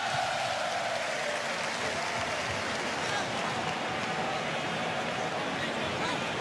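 A large football stadium crowd cheers continuously, a dense, steady roar of supporters' voices filling the space throughout with no pauses.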